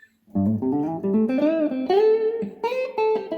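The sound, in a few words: blues guitar lick played up to speed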